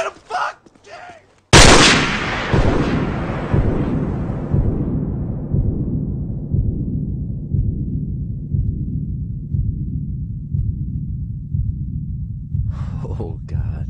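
Gunfire in Call of Duty 4: Modern Warfare: one loud blast, then a long rapid burst of automatic fire with a rumbling tail, close and dominant, with brief shouting before and after.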